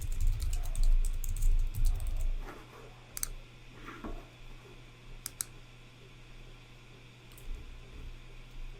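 Computer mouse clicks while republishing an application from the top-right corner of a pane, heard as a few sharp, isolated clicks over a low fan-like hum in a quiet room.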